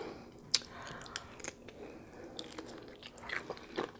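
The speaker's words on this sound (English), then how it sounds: "Let me get y'all a bite of this shrimp." Biting and chewing seafood boil shrimp up close, with soft wet squishes and a few sharper crunchy bites scattered irregularly over quiet background.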